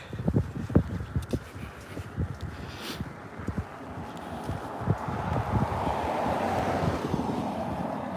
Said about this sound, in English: seems a little colder and a little breezy on this side